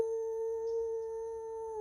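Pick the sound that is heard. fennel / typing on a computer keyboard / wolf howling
wolf howling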